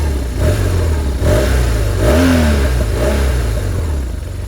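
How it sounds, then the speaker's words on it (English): A BMW R1200R motorcycle with its stock exhaust revs up close, the engine note climbing and falling through a few throttle blips with no talking over it. "Now you can get an idea of how the stock exhaust sounds"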